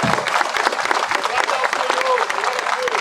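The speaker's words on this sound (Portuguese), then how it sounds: "Eu peço uma salva de palmas, gente" Applause from a crowd at an outdoor political protest rally, a dense patter of clapping running throughout under a voice speaking over it.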